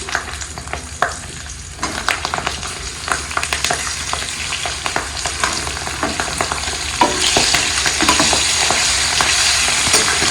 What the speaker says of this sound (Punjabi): ਹਿੰਗ ਥੋੜੀ ਜਿਹੀ ਤੜਕ ਹੋਗੀ ਤੇ ਫਿਰ ਪਾ ਦੇਣੀ ਇਹਦੇ ਵਿੱਚ ਮਿਰਚਾਂ